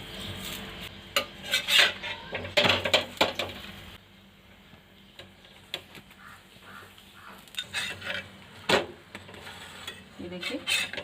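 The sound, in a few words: carrot stuffed paratha cooking on a pan, both sides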